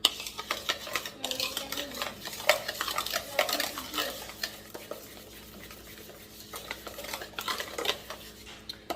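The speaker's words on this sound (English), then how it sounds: "I'm going to stir that into the butter and the sugar" Spoon stirring a mixture into butter and sugar in a bowl for vegan pumpkin cupcakes, with steady scraping and clinking strokes, close and moderately loud, no talk.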